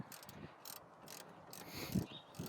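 Faint clicks and ratcheting as a wrench loosens and disconnects a brake line on a Mitsubishi Evo X, a few quiet metallic ticks and scrapes spaced irregularly nearby with no voices.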